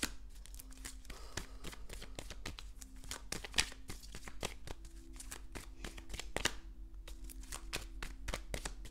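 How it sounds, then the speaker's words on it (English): Cards shuffled by hand during a tarot-style reading, a rapid run of crisp riffling snaps and flicks repeating steadily and close, with no talking. "I like to shuffle on camera."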